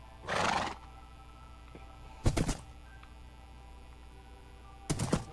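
A Minecraft horse gives a short, bright whinny, followed by two dull thunks a few seconds apart over a quiet game background.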